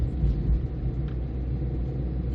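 A 2008 Vauxhall Corsa 1.3 CDTi diesel hatchback being driven, heard from inside as a steady low engine and road rumble, fairly quiet with a few slightly heavier swells.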